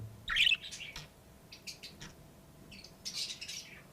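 A pet budgerigar, feeding among egg and melon, lets out a sharp squawk followed by scattered bright chirps in short bursts, close and clear against a quiet room.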